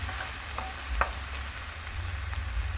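Vegetables for a chicken and cabbage stir fry sauté in a pan, giving a steady low sizzle with a few faint stirring clinks, no voices.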